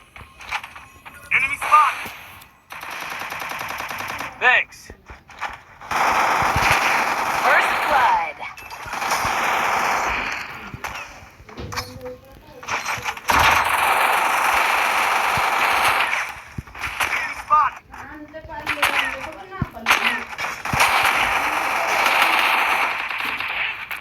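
Gunfire in the battle game Garena Free Fire, clashing-squad ranked match with a sniper: dense bursts of automatic shots and sharp cracks come in clusters across the whole stretch, loud and near, with game effects between volleys.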